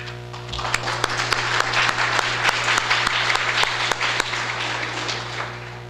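A room full of people at a Rotary club event applauds, steady clapping that swells and then fades away near the end.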